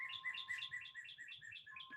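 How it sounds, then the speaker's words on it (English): Birds sing outdoors in a steady run of bright, repeated chirps and warbles, fairly close and lively, over a faint low rumble of passing traffic and a thin steady tone. "The bird that's singing,"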